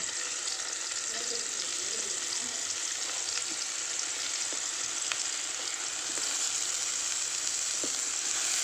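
Brinjal slices frying in masala with curry leaves in a pan on the stove, a steady, dense sizzle that runs unbroken throughout, with small pops and crackles scattered through it.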